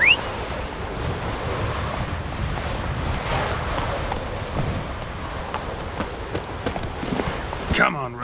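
Hooves of Roach, Geralt's horse in The Witcher 3, clip-clopping steadily over wind and surf-like ambience, moderately close, with a louder burst near the end.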